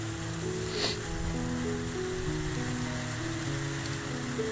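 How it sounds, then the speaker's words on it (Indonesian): Light rain falls over rice fields in Empat Lawang, a steady soft hiss of drops on surfaces, with a faint tonal engine hum underneath and one brief clatter near the start. "Ini hujannya pun tidak terlalu deras, tapi kalau kita lanjutkan perjalanan pasti basah ini pemirsa."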